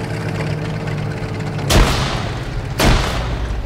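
Two sharp, loud grenade blasts in a tank combat video game, each a sudden booming crack with a short decaying tail, about a second apart over a low engine rumble.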